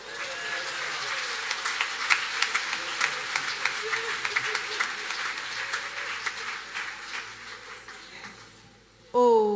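A church congregation at an evangelism gathering applauds in a sustained, dense wave of clapping and cheering, which fades before a voice cuts in at the end.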